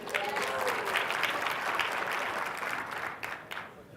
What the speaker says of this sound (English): By a show of applause if I'm telling the truth